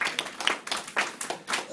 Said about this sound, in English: I'd all like to make do a round of applause for those.